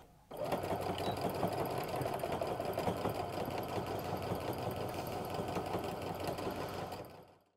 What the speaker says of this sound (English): make sure that I'm stitching it down in that seam allowance